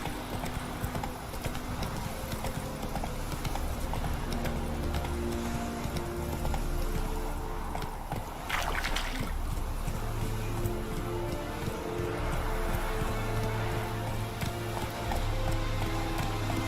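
Galloping hooves of a horse in The Witcher 3 video game, a fast steady clip-clop rhythm running the whole time under a constant layer of background game sound.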